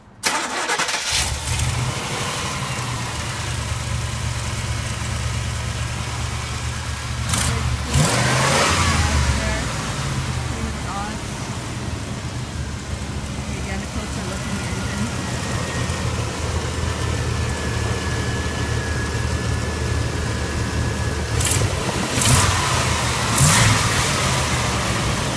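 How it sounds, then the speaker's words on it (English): A new GMC truck's engine cranks and catches, then settles into a steady idle with a couple of brief revs rising and falling over about 25 seconds, heard up close with faint clicks and no talk over it. "we're just going to do the video of your new truck starting up."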